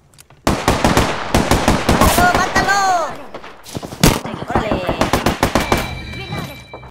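Rapid bursts of gunfire in Apex Legends, including shotgun blasts, crack sharply and repeatedly across the clip, with a brief lull midway and a high electronic tone near the end; a voice speaks partway through.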